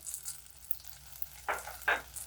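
Grated coconut and ripe tomatoes sautéing in a pan for a drumstick leaf dish, a faint low sizzle broken by two brief louder bursts of stirring near the end.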